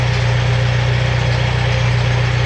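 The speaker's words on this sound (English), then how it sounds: "You can kind of hear the whine of that transmission." A 1972 Allis Chalmers M65 road grader engine idles with a constant low hum and a faint high-pitched transmission whine running underneath, unchanging throughout.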